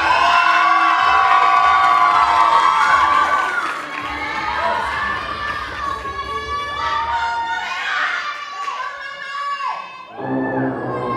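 A large audience, many of them children, cheers, whoops and shouts loudly and continuously at a junior event, with the roar dipping slightly midway before swelling again.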